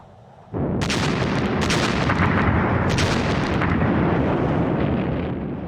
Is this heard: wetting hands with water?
no